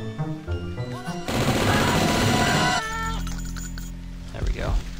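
Machine gun fire in the 1997 shooter Blood: a dense, loud burst of rapid shots lasting over a second, set among game music notes and other game effects.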